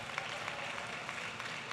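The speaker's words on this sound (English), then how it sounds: "Round of applause to you all" A graduation ceremony audience applauds, a dense, even wash of many hands clapping at moderate volume, heard from a distance and sustained throughout.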